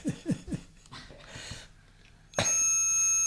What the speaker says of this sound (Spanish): Toma, la campana, ahí la tienes.